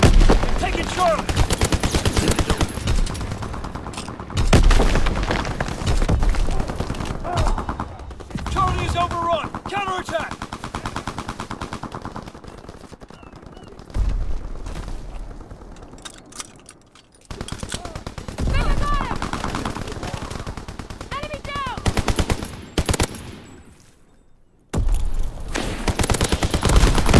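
Call of Duty WW2 multiplayer battle at Chatellerault with loud, continuous gunfire and machine-gun bursts, heavy and close, broken by short lulls and louder volleys.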